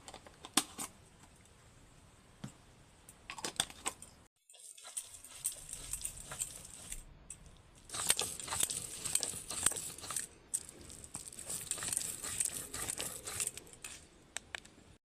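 Melon seeds and white mustard seeds are ground on a grinding stone into a spice paste for doi ilish, with irregular close scraping and clacking strokes broken by short pauses.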